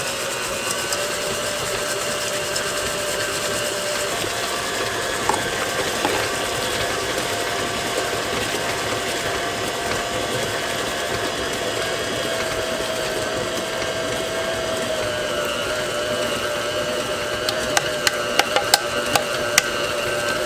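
A food processor whirs continuously, blending apples, raisins and chopped nuts for cookie dough, a steady motor drone that runs unbroken for about twenty seconds, with a few light clicks near the end.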